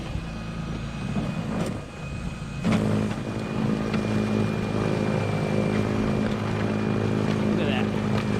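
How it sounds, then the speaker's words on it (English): An electric snow blower clearing a snowy walkway, its motor kicking on abruptly and then droning steadily and loudly close by, with a constant whirring hum. "This is even better than other electric snow blowers I've used."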